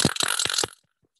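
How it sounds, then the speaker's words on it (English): A loud wooden carraca ratchet rattle, a fast burst of dry clicks for under a second, then a couple of faint knocks. "that's called carraca, which is basically made out of wood, it sounds like this"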